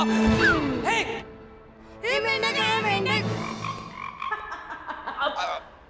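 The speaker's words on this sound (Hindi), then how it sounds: "मेंढक।" A frog croaks in a comedy TV episode, a few loud, near, warbling calls in short bursts with brief gaps between them.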